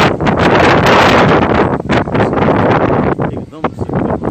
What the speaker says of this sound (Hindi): काफी तेज हवाएं,